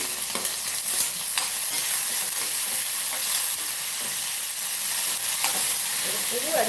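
Onions and tomatoes sautéing in a pan for tomato rice, a steady close sizzle with occasional scraping stirs of a spoon against the pan, no talking.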